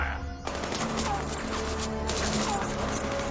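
Dense gunfire from a Doctor Who episode, a steady rapid barrage of crashing shots that continues throughout, with people's voices heard under the noise.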